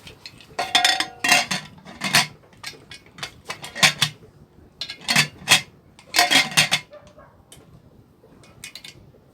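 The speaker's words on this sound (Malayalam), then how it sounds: "കുക്കർ അടച്ച് വയ്ക്കാം." A pressure cooker lid is fitted and closed over a coconut-piece curry. Several sharp metallic clanks and scrapes come in uneven bursts, close and fairly loud.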